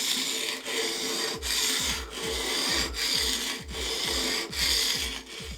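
A chisel is pushed back and forth on a sharpening stone in steady, repeated strokes, each a close, gritty rasping swoosh of about half a second, with no talk.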